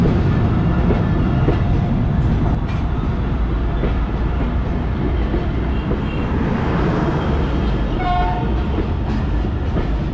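A train rumbles past a level crossing near Kot Lakhpat Railway Station with loud continuous rolling noise and rail clatter, and the AG30 locomotive horn sounds briefly near the end.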